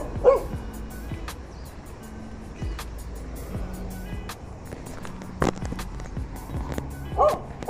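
A dog barks a few times at close range amid outdoor noise in Hong Kong, with rolling wheels and passing traffic in the background.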